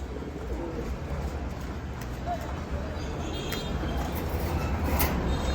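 Racing and fancy pigeons coo softly in a loft over a dense, steady background hum, the calls low and hard to pick out.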